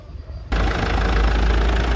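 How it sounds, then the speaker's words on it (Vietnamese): A 2011 Toyota Fortuner XL pickup with a manual gearbox and four-wheel drive cranks and catches, then settles into a loud, steady close-up idle after a brief quiet moment. "nổ máy chiếc Forerunner 2011 lên để quý anh chị các bạn ta quan sát cái khoang động cơ"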